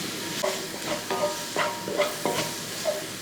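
Spoon scraping and stirring through spice powders in a pan of chicken curry, with a steady oily sizzle underneath and repeated close scrapes at an unhurried rhythm.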